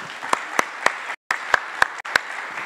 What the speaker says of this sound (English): I want to give them a round of applause again,